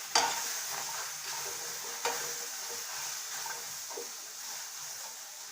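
Cumin powder being stirred into guava in a pan over a gas flame, a steady soft sizzle with a few sharp scrapes of the spoon against the pan near the start and midway.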